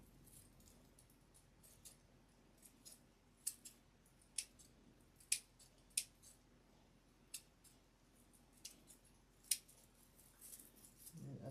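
Sharp, separate snips of scissors trimming fuzz off a wire, about a dozen quiet close cuts spaced unevenly over a soft background hiss.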